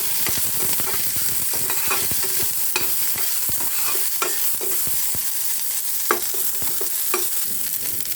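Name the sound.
stirring urad dal, garlic, shallots, curry leaves, chili flakes frying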